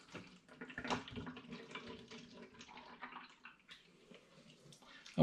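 Water poured from one container into a plastic water bottle while making an all-grain porter beer at home, a gurgling, splashing stream at close range that tapers off near the end.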